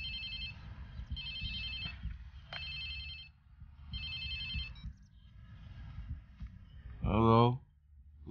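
A phone rings in the video game Watch Dogs 2, sounding as repeated bright electronic ring bursts separated by short pauses over a low background bed. A voice speaks briefly near the end.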